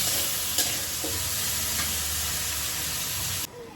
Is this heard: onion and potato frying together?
yes